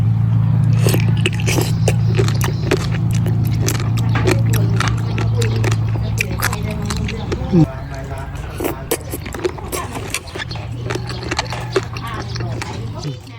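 Close, crisp crunching and biting sounds repeat irregularly as someone chews firm, rubbery bullet jellyfish, with a voice talking intermittently over it.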